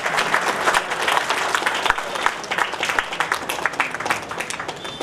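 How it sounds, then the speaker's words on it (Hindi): A seated audience at a 75th Independence Day ceremony at the Banaras locomotive works in Varanasi bursts into dense, sustained applause, many hands clapping together at a steady level throughout. "कृपया तालियों से"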